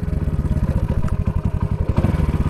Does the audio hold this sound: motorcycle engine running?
yes